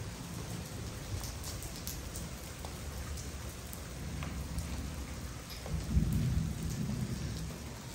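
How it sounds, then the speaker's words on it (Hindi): Steady heavy rain pours down with a low rolling rumble of thunder rising near the end; no voices. "बहुत तेज़ बारिश है।"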